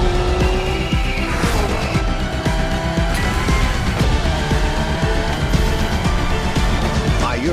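A Genty Akylone hypercar drives in The Crew Motorfest racing game, its engine droning loudly and steadily with tire squeal and skidding woven through the continuous roar.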